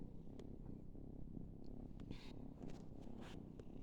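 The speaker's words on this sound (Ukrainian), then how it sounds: "Вже поїло і муркає." A small kitten purrs steadily and softly up close after feeding, a low continuous rumble with a few faint rustles over it.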